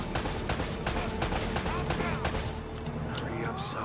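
Rapid gunfire from the Uncharted: Drake's Fortune video game, a dense run of sharp repeated shots at a steady rhythm, loud and close, with game voices talking over it.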